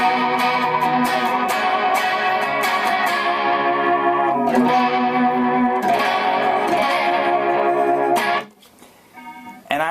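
Electric guitar run through a chorus pedal, giving a shimmering, organ-like sustained tone; loud, continuous chords with swirling modulation for about eight seconds, then a sudden drop to near silence with faint picking at the end.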